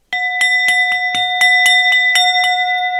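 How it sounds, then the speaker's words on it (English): A metal hand bell rings about ten times in a steady, even rhythm, close and loud, each strike leaving a sustained bright tone that hangs under the next. "Let me get out the bell."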